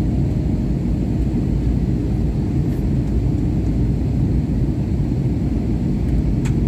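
Cabin rumble aboard an airliner descending to land at Chandigarh Airport, a loud steady low roar with no pauses throughout.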